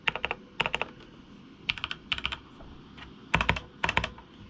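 Keys on a gaming keyboard with red switches clatter in quick bursts of several strokes, separated by short pauses, close and crisp.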